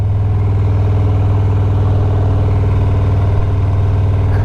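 A loud Harley-Davidson Road Glide motorcycle engine idles steadily up close, a deep, throbbing low rumble with an even pulse throughout.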